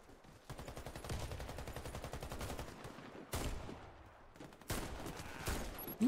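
Gunfire in the video game Warface, with rapid automatic bursts rattling in quick rhythmic runs, broken by a few sharp single heavy shots, fairly close and loud, with no talk over it.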